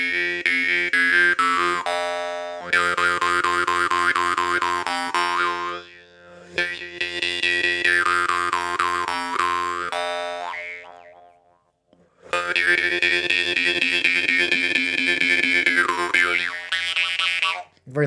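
Romanov jaw harp being played close up, loud twangy buzzing tones with shifting overtones in several sustained phrases separated by short pauses.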